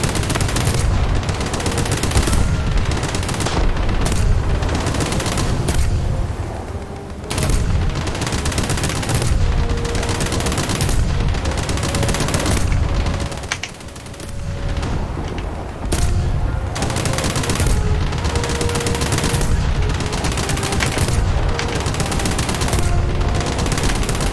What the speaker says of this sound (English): Let's switch to naval guns.